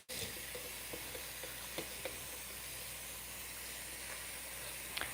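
Filtered water from a kitchen sink tap running in a steady broadband hiss into a pot for lentil soup, continuous and close, with faint clinks scattered through it and no talking.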